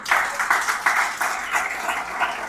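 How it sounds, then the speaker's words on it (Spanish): Congregation applauding the Lord during a Spanish-language church sermon, a steady wash of many hands clapping in uneven pulses, fairly loud and close, with no voices over it. "Yo voy a aplaudir, apláudale al Señor"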